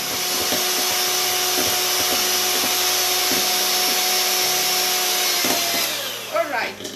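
A steady, loud electric mixer beating egg whites for meringue runs nearly continuously for several seconds, then winds down and stops near the end.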